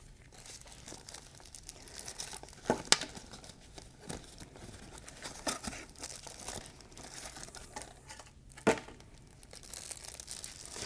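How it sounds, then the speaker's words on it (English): Plastic covering on catheterization supplies crinkles and rustles steadily up close, with a few sharper crackles and tearing snaps as it is pulled away. "Now I'm going to be removing the plastic covering."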